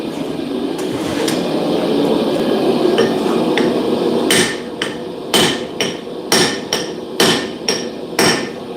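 Hammer blows upsetting the face of a blacksmith's rivet tool, a run of sharp metallic strikes in an irregular but steady rhythm, close and loud over a background hum.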